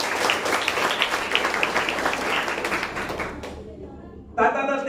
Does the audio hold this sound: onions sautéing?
no